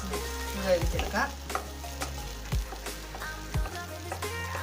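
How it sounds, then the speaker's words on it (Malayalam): Sliced bitter gourd stir-fries in a pan for a Kerala-style mezhukkupuratti, with a soft continuous sizzle broken by several scraping stirs of a spatula against the pan, close and moderately quiet. "ഇതിങ്ങനെ ഇടയ്ക്കിടയ്ക്കൊന്ന് ഇളക്കിക്കൊണ്ടിരിക്കണം, അല്ലെങ്കിൽ ഇത് അടിക്ക് പിടിക്കും."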